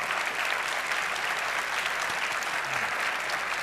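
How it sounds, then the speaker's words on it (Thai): Steady, dense applause from an audience at a Thai children's awards ceremony, an even wash of many hands clapping close by with no voices over it. "ผมอยากจะให้ปรบมือให้กับความรู้ความสามารถของ น้องๆทุก ๆ คนนะครับ"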